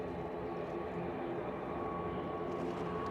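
A jet airliner on a short departure roll at Edinburgh Airport gives a steady, broad engine roar with a faint whine, continuous and moderately distant.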